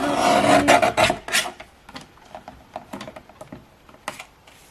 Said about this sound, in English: I'm going to cut one of those out